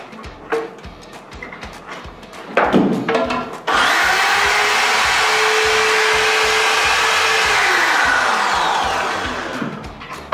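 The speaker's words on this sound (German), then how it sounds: "Die Bohrmaschine an." A water-damaged electric drill, just treated with electronics spray, is switched on after a few handling clicks and knocks. It runs with a loud, steady high whine for about six seconds, then slowly winds down.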